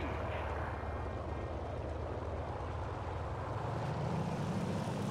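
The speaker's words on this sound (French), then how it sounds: "Je pousse le moteur à sa limite." Fighter plane engine in War Thunder pushed to full power, a dense, steady propeller roar droning continuously at high volume with no break.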